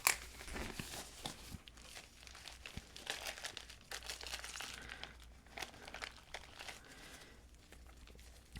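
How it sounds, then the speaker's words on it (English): Mozzarella torn by hand into pieces for a vegetarian lasagna gives off soft, faint, close crinkly rustles and small wet tearing sounds, scattered irregularly throughout with no talk. "I have to tear the mozzarella"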